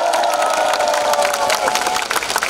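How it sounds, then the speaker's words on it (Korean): A dense crowd at a Korean presidential election campaign rally claps and cheers loudly and continuously, with shouts and whoops over the sustained roar. "다 함께 박수 한번 보내볼까요?"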